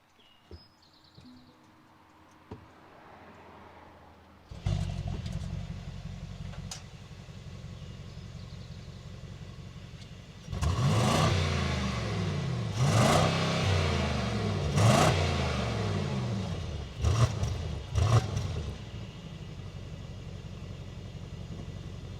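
A 2024 Mercedes-AMG GLE 63 S revs its exhaust close by, starting with a low idle rumble and building to several sharp, loud throttle blips and surges.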